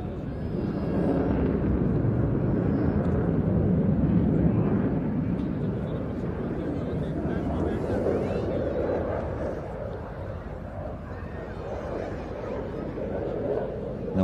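A Eurofighter Typhoon jet flies a display at an air show, its engines making a loud, sustained low roar that swells and slowly fades. Commentary can be heard over it.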